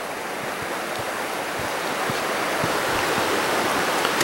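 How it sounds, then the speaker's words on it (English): A river rushes past close by a tent, a loud, even wash of broadband water noise that holds steady throughout with no voices. "I don't know if you can hear on the camcorder the sound of that river rushing by"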